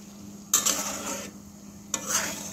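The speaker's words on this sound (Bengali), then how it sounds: "এই যে দেখতে পাচ্ছেন কত সুন্দরভাবে ফুটতেছে আর ঘি কিন্তু বের হওয়া শুরু করে দিয়েছে" Cream boiling down into homemade ghee in a pot, with two bursts of stirring scrapes over a steady low bubbling simmer, close and moderately loud, no talking.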